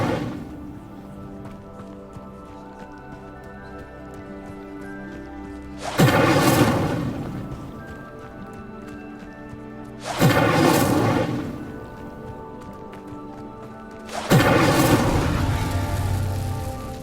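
Fire spell cast three times in Hogwarts Legacy, each a sudden loud whooshing burst that swells and fades over a couple of seconds, with quieter game ambience in between.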